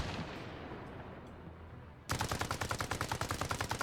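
Rapid automatic gunfire from an LAV-25 armored vehicle's 25mm autocannon and 7.62mm machine gun in the Arma Reforger video game starts abruptly halfway through as a steady, loud stream of evenly spaced shots after a stretch of noisy rumble.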